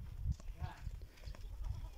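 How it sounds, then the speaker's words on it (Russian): Goats being walked along on a farm, with low rustling and scuffing footsteps and a faint bleat-like cry amid outdoor background noise, close by. "Прогулка с козами."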